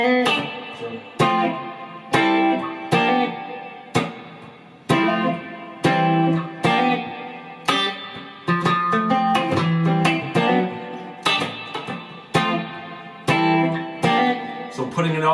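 Funk electric guitar playing a triad movement with clipped chords and single notes in a steady groove, a tinge of effects on the tone; a voice briefly talks between phrases.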